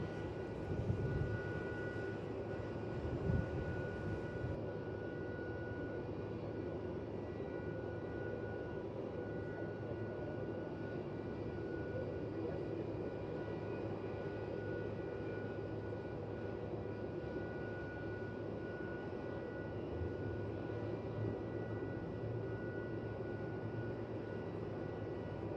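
A Qantas airliner arriving from Adelaide lands on runway 16 at Melbourne Airport, heard as a faint, distant, steady jet roar that holds evenly throughout with no voices.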